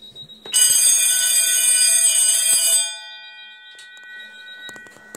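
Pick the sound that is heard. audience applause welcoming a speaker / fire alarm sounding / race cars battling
fire alarm sounding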